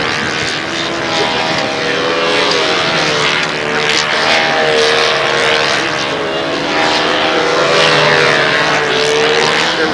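At a windy world championship, a model aircraft's propeller whines loudly and steadily overhead, its pitch wavering as it flies, with faint voices underneath.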